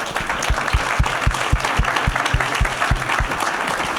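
An audience at the DrupalCon Singapore 2024 Splash Awards applauding steadily, a dense, loud wash of clapping with a few prominent nearby claps standing out, no talking.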